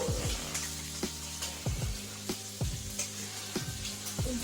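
Chicken alfredo sauce with shrimp sizzling and bubbling in a pan, with steady frying hiss and repeated soft stirring scrapes every half second or so, close and moderately loud, no talking.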